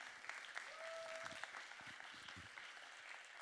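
An awards-ceremony audience claps steadily in a hall, a moderate round of applause with a brief tonal electronic sound partway through and some faint voices underneath.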